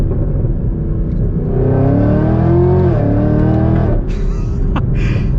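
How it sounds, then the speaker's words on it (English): A 2023 Chevy Camaro ZL1 engine revs up loudly, pitch climbing and then easing off, heard close from inside the car. "This car is so stupid fast and sounds so good."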